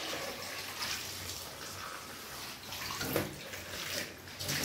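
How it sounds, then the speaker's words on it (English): Water pours and splashes as a pot is drained in a home kitchen while cooking Jamaican-style callaloo with saltfish, a steady rushing stream with small surges, fairly quiet. "I'm going to go ahead and drain this off right here"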